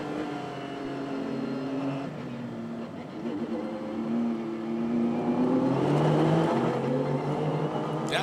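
Prototype and GT sports cars racing at Mosport in an ALMS event, engines droning and rising in pitch as they pass at a distance, moderately faint under a broadcast mix.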